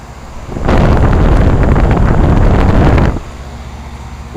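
Two-zone Lennox central air conditioner condensing units, straight-cool units paired with oil furnaces, run outdoors with a loud, steady broadband fan roar that starts abruptly, holds for a few seconds, then cuts back to quieter background.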